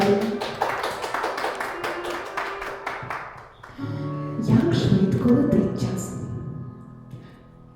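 Applause for the bride at a wedding ceremony, a dense burst of clapping from a gathered crowd that gradually fades, followed by music with voices over it.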